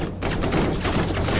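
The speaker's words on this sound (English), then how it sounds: "turn the gunshots down a little bit" Rapid gunfire from an Uncharted-style action video game, a dense burst of repeated shots close and loud, running continuously through the short stretch with no talk over it.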